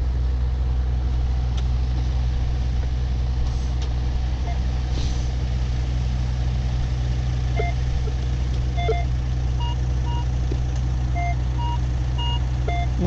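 A metal detector in a field gives short, clipped electronic beeps at shifting pitches, scattered through the second half over a constant low rumbling hum, the beeps fairly faint.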